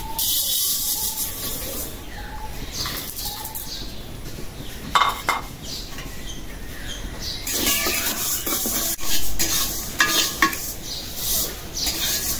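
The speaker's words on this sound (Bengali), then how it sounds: "মাসকালের ডালটা ভাজার জন্য কড়াই বসাই দিই" Dry black gram lentils rattle and scrape in a dry wok as a utensil stirs them, with metallic clinks and a faint hiss.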